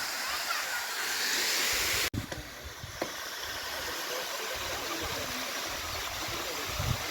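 Steady broadband rush of the Palashdari waterfall pouring through jungle, a continuous loud wash of falling water with a brief dropout early on, then the flow resumes alone without talk.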